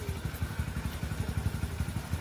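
A motorcycle engine runs close by with a steady, chugging low-frequency pulse throughout, like idling or slow riding, with no voices over it.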